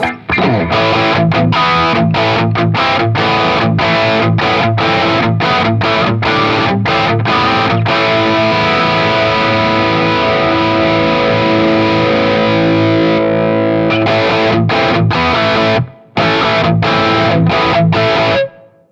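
A heavily distorted electric guitar on a high-gain setting plays loud, fast chugging chords with sharp stops and a long sustained chord in the middle, with no voices.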